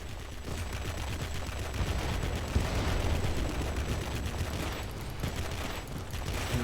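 Aircraft machine guns firing in the World of Warplanes video game, aboard an XF5U fighter: continuous rapid rattling bursts over a low engine drone, loud and close, with no talk.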